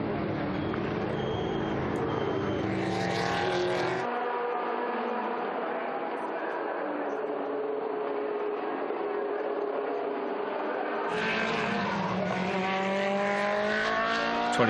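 Historic race cars at the Estoril Classics circuit pass in loud, continuous waves, engines rising and falling in pitch as they rush by close, with a brief lull mid-way before another pack howls through.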